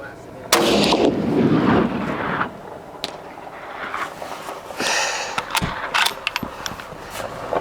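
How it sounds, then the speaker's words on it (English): A CZ-527 rifle firing Wolf Polyformance ammunition lets off one sharp, loud shot near the start, followed by fading echoes and some quiet handling noise. "Last shot."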